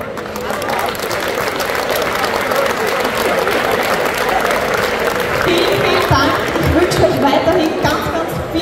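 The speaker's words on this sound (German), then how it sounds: "Einen großen Applaus für unsere Top 3 der Landes." Sustained applause from a crowd at a political rally in Wels, Upper Austria, dense steady clapping filling the room for several seconds without a break.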